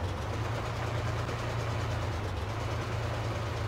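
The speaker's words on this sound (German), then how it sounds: "Das Gute ist, er hat einen sehr leisen Motor, wenn er steht." Steady low rumble of a stationary T-28 tank idling quietly in Heroes & Generals, a soft constant drone with no change in pitch and no voices.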